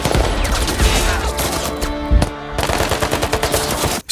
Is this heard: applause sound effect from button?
no